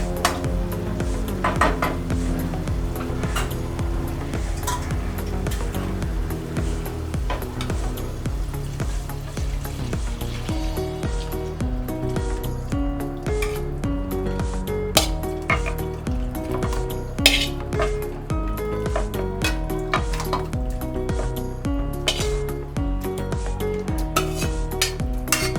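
Chicken and stock stirred in a pan with a spoon scraping and clinking steadily against the metal while the food bubbles and sizzles underneath, close up and with no talking.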